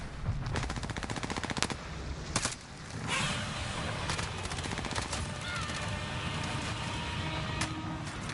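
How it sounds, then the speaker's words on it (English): Sniper rifle fire in Call of Duty: Warzone, a few sharp, loud shots spread across the stretch with bursts of rapid gunfire and a continuous battlefield rumble behind them. "I'm hearing that sniper fire"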